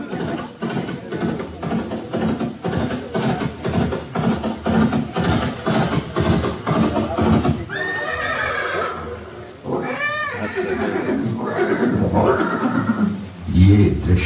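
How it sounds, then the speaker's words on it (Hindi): A horse whinnies and neighs, echoing as if through a cave, in a staged Haldighati battle scene featuring the warhorse Chetak; the neighs rise out of a continuous backdrop of music and voices, growing clearer in the second half. "ঘোড়া আসতেছে গুফা দিয়ে।"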